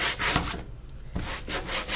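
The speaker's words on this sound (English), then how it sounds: "It's almost like that antiquing that we do, but I'm doing it with a sanding disc." A sanding disc scrubs paint off a painted wooden sign in rough, rhythmic rubbing strokes with brief pauses between passes, close and fairly loud with no talking.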